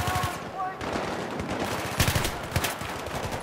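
Bursts of automatic gunfire in the video game Battlefield 3, loud rapid volleys with a few sharper shots standing out, during a military campaign mission.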